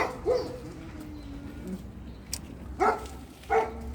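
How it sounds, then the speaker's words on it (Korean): A dog barks at a stranger walking past a rural hillside home: a few short, sharp barks at scattered moments, somewhat distant, over quiet outdoor background. "호두 마루가 또 지나가는 모르는 사람 지나가또 짖네요"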